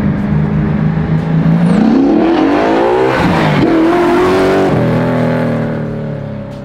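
A '65 Fastback Mustang with a Boss 302 V8 revs up and settles, the engine note rising through a couple of throttle blips then dropping back to a smooth, steady idle, loud and close.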